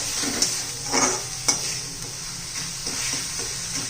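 Homemade masala with a pinch of turmeric is stirred into a sizzling pan for an egg curry with yogurt, several brisk spoon scrapes breaking through a continuous close crackle.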